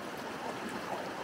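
Creek water flowing steadily beside a campsite in Utah's Ashdown Gorge, a soft continuous wash and trickle at low level with no voices over it.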